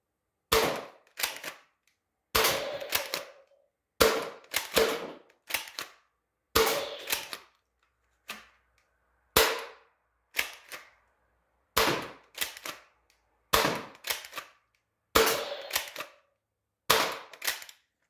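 A modified Nerf Worker foam dart blaster fires in repeated bursts: sharp mechanical clacks come in pairs and triplets roughly every second or two, loud and close, with short silences between volleys and no talking.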